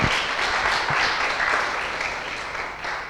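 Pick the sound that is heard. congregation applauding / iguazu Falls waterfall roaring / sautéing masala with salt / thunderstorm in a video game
congregation applauding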